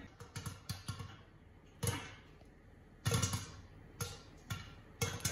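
Popcorn popping in a pot on a stovetop: sharp bursts, several close together then spaced out, crackling loudly against a low steady hiss of heat beneath.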